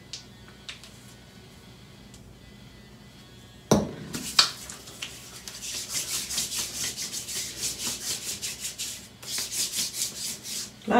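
Cocoa butter lotion is rubbed onto skin in close, rhythmic strokes. A few sharp handling knocks start the soft repeated swishing that carries on steadily to the end.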